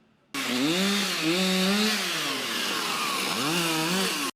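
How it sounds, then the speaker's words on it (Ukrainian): Power saw cutting OSB boards to cover damaged building windows, a loud continuous whining buzz with pitch rising and falling as the blade bites, running steadily for about four seconds close by with no talking. "працівники Запоріжремсервісу вимірюють та вирізують ОСБ плити"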